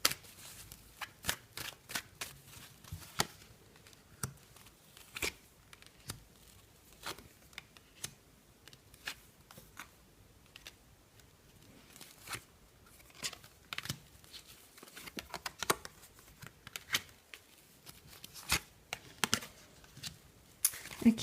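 Tarot cards being shuffled and laid out, a long run of quick papery riffles and flicks, some in tight bursts and others spaced apart, close and crisp with no voice over them.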